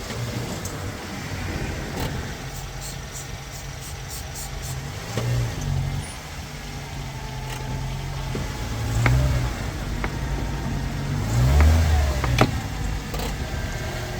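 A car driving slowly up onto wooden blocks with a tire partly unseated on its rim, a steady low engine idle and hum rising in a few brief surges of throttle, close by, with no talk.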